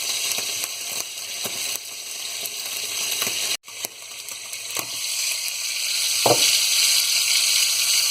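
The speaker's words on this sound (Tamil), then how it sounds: "கொஞ்சம் லோ ஃப்ளேமில் வச்சு ஃப்ரை பண்ணுங்கள்." Fish coated with curry leaves fries in a pan over a low flame, a steady close sizzle with scattered crackles and a few sharp spatula scrapes and taps, and one brief dropout near the middle.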